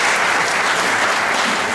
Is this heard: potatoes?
no